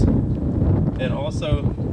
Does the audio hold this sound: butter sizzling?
no